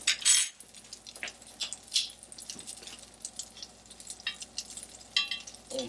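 Foie gras searing in a pan, a close crackling sizzle with scattered pops and small metallic clinks, no talking.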